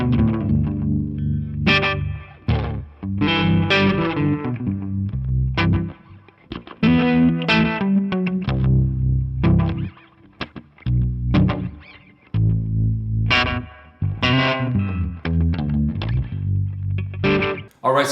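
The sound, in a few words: baritone guitar with harmonic tremolo and delay pedals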